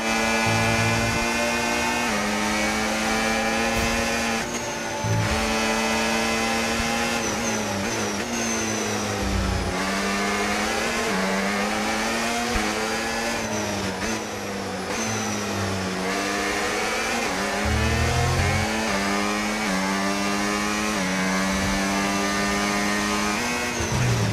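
F1 race cars in the F1 25 video game keep up a loud, continuous high-pitched engine whine that rises and falls through gear shifts and revs over the whole stretch, with no talk.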